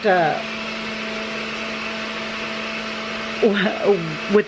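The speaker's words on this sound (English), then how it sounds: "you can hear the blender going" A steady mechanical whir of a blender runs throughout, with a voice breaking in near the end.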